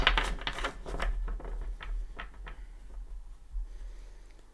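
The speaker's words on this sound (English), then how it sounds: "Already pre-shuffled, but we'll go ahead and shuffle it." Crisp riffling and flicking of tarot cards being shuffled close by, a quick burst of rapid snaps followed by softer, scattered shuffles and taps.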